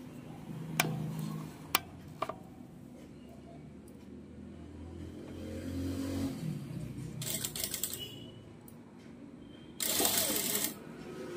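A sewing machine stitching fabric near the edge: two short, loud runs of rapid whirring stitches, with clicks and someone talking between them.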